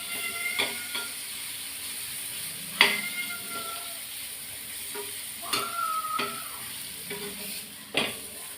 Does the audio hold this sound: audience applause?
no